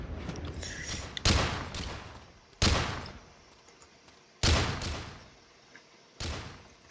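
Rocket launcher blasts in Roblox boom out four times at irregular intervals, each loud explosion decaying into a rumbling tail, with no talk over them.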